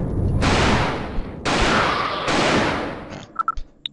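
Three booming shotgun blasts in the video game Alone in the Dark IV, each one loud and sustained with a long rumbling tail, followed by a few short metallic clicks and clatters.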